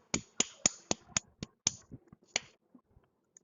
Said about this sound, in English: Everybody clap for Ishita Kapoor.